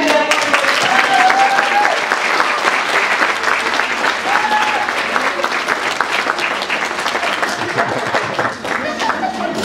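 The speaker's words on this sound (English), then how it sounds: "Let's clap" Strong audience applause at a school stage production of Beauty and the Beast, thick and continuous clapping with voices and a few cheers mixed in, holding steady before tapering slightly at the end.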